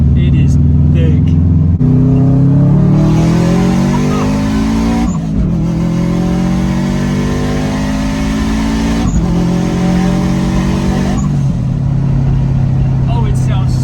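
A big-turbo Subaru STI-swapped Forester with a crackle tune revving hard through several gear changes, rising in pitch each time, with popping crackles between shifts, loud and close.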